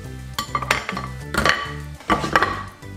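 Oysters being lifted onto a plate, giving a few sharp clinks and scraping knocks of shell against dishware and utensils, close and moderately loud, with no talking.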